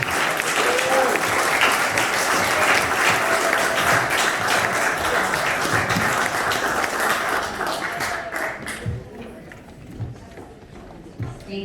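Audience applause at the opening of an office, dense and loud clapping from a crowd that holds steady for several seconds, then tapers off, with some speech near the end.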